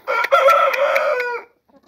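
An Aseel rooster crows once, loud and close, a long harmonic call that rises and holds before trailing off, followed by a brief faint cluck, on a free-range farm.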